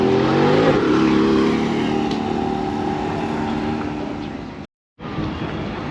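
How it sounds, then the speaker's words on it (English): A Porsche heads toward the track at Cadwell Park, its engine droning steadily with loud, continuous revving and rumbling, close by, before a brief cut in the sound. "Porsche on his way to the track."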